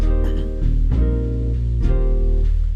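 Arranger keyboard playing its Serenade style at a slow tempo of 66, sustained full chords with a bass line and soft rhythmic accents, loud and alone without talk.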